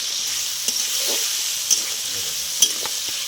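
Tomatoes, onion, cardamom and cinnamon frying together in a pan for a Bengali tomato chicken dish, a steady soft sizzle with a few sharp clicks of stirring and scraping throughout.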